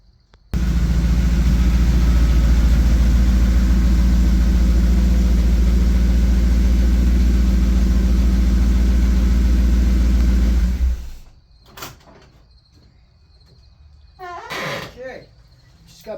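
A car's 428 V8 fitted with a rebuilt Holley 600 carburetor runs loud and steady for about ten seconds, then cuts off, leaving quiet background with a few faint sounds.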